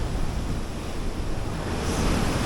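Steady wind roars across a beach shore with surf washing in, a dense continuous rush close to the microphone with buffeting gusts and no voices.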